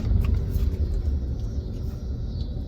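A car engine rumbles steadily up close, with a low continuous drone through a gear change and braking while parking, no talk over it.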